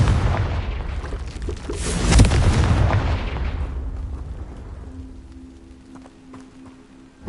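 A Confringo fire spell bursts in Hogwarts Legacy with a loud, broad boom that peaks sharply and then rolls off into a fading rumble, followed by a faint steady tone and a small pop at the end.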